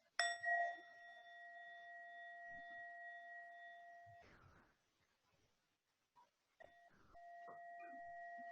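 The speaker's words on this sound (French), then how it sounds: "On va conclure en écoutant un son de la cloche." A mindfulness bell is struck once and rings with a long, pure sustained tone that slowly fades before cutting off, followed by quiet, a small tap, and a second strike that rings on steadily.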